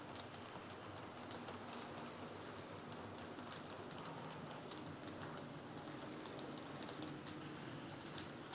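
Long model train running on a layout track, a constant low rumble and clatter of wheels rolling steadily and evenly, with no talk over it.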